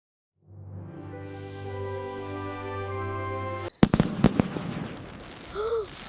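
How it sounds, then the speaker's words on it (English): Fireworks go off in the sky after a rising whistle-like tone, several sharp crackling bangs in quick succession, then a brief sweeping whistle near the end. "When will the fireworks start, Mommy?"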